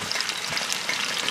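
Steak searing in a hot pan, with bacon cooking alongside, gives a steady, close, continuous sizzle and crackle with no talk over it.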